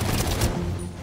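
Gunfire burst from a gun in the video game Batman Arkham Origins, a loud dense volley of rapid shots in the first half second, then fading into a low rumbling game backdrop.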